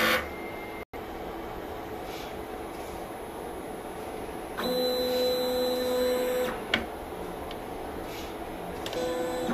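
A DTF printer runs its head cleaning cycle, with a steady mechanical hum that turns into a louder whirring pump drone for about two seconds, followed by clicks and a brief whine near the end.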